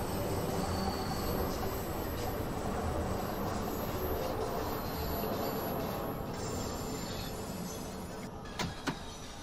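Bakerloo line train in Train Sim World 2 accelerating, a continuous dense rumble of motor and wheels on rail with faint whine, steady and close, with a couple of brief clicks near the end.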